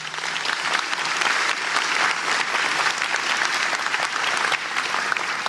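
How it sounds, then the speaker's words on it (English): A crowd at a county address applauds loudly and continuously, dense clapping filling the whole stretch without a break. "Give her a round of applause."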